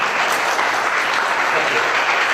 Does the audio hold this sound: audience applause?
yes